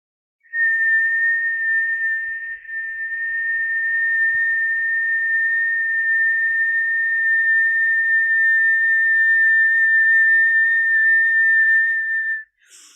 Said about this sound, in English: exhaling through a very small straw-shaped mouth. And if you can make that whistle sound, great.